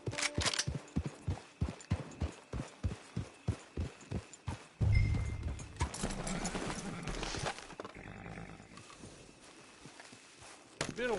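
Horse hooves clip-clop in a steady walking rhythm in Red Dead Redemption 2, a dozen or so close, clear strikes, then a louder burst of movement and rustle as the pace breaks up, with a few faint hoof steps returning at the end.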